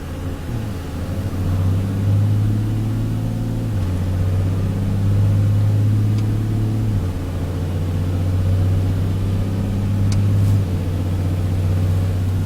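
Turbocharged engine revving during a boost test at about 25 PSI, a loud steady drone that climbs and holds with a few step changes in pitch, close and without talk.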